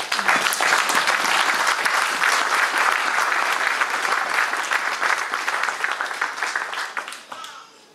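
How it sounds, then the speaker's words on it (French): A church congregation breaks into sustained, dense applause, a loud wash of many hands clapping that holds steady and then fades out near the end. "Est-ce qu'on peut acclamer pour le Seigneur?"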